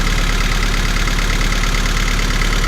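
A Honda Civic EF engine idles steadily while warming up in a garage, a loud, continuous low rumble with an even mechanical pulse and no pauses.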